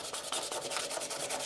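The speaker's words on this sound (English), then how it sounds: "finish the sanding" Steady back-and-forth rubbing of sandpaper on wood, a rhythmic scratchy hiss repeating in quick even strokes, close up with no talking.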